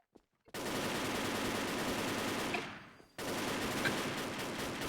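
Sustained automatic gunfire from the WolfTeam shooter game roars loud and continuous, breaks off briefly for about half a second, then resumes in another dense burst.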